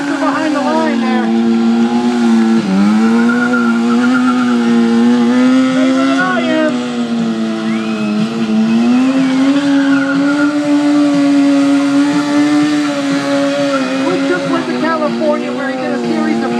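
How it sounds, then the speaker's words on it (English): A stunt motorcycle performs sit-down wheelies and spins, its engine whining at sustained revs with rising and falling pitch and squealing tires, loud and close, with a commentator talking over it. "Watch these sit-down wheelies right here."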